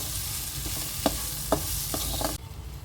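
Tomatoes mashed and stirred in a frying pan for egg kothu parotta made with leftover chapati, a steady sizzle under a few sharp spoon knocks against the pan, ending abruptly.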